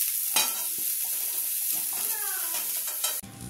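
Cauliflower florets fry in oil in a wok, giving a steady close sizzle with scraping stirs and light utensil clinks against the pan, alone and continuous for a few seconds before it cuts off.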